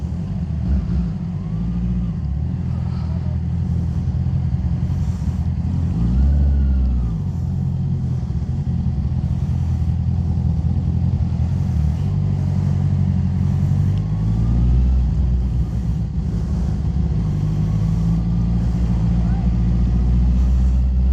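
Road traffic beside a lake: a continuous wash of cars and trucks passing with engines rising and falling, and people talking over it.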